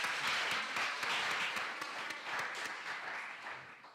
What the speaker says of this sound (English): Yes, there's a clap.